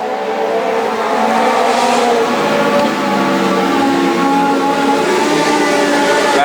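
Legend race cars lap the Augusta Margaret River Speedway, a loud, steady engine roar of several cars droning continuously at close range, with no pauses.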